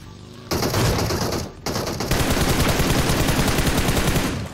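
Video game gunfire: a loud sustained burst of rapid automatic shots, a brief break, then another long, steady stream of close, loud fire with no talking.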